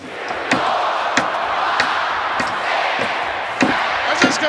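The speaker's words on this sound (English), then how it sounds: "As this capacity crowd counts along" A capacity wrestling arena crowd roars and chants in a count, with sharp thumps landing at a steady rhythm, about one per second, over the sustained crowd noise.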